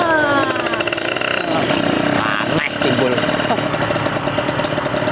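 A trail motorbike runs with a rough, pulsing engine note that rises and wavers, close and fairly loud, with a person talking over it.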